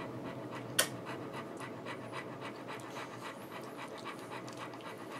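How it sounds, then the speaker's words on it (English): Dogs panting steadily, a fast rhythmic breathy huffing held close and fairly quiet throughout, with one sharp click near the start. "Sweet dogs."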